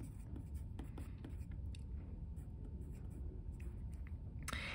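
An equation written by hand, faint scratchy pen or pencil strokes in short irregular bursts over a quiet background hum, with no voices.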